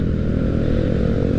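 Motorcycle under throttle while riding, a loud, dense engine drone with low rumbling pulses continuing steadily throughout the short stretch, no voices.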